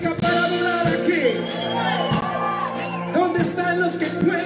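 A worship congregation shouts and cheers loudly, with whoops and yells rising over sustained music in a large hall, and the crowd noise continues throughout.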